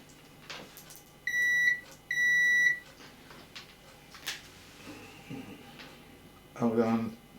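Two clear electronic beeps from a multimeter continuity buzzer sound close and loud, one after the other, while a medical adjustable bed remote circuit is probed. Quiet clicks and handling noise follow, then someone speaks briefly.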